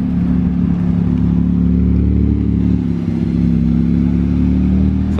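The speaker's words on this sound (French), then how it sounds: "Encore une GT2 RS." Porsche 911 GT2 RS sports car in Monaco at dusk after rain, a loud close engine drone with strong low harmonics that holds steady throughout, with no talk over it.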